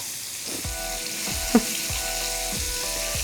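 Shrimp fry in a pan with a soft, continuous sizzle, punctuated by a few light clicks and one brief sharp tap, close and steady throughout.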